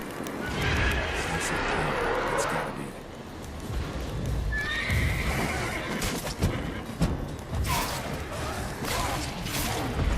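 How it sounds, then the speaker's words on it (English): A horse gallops in Witcher 3 Wild Hunt, with steady clip-clop hoofbeats and repeated neighs and whinnies, loud and close, while a voice talks over it at times. "I hope that my horse can take it."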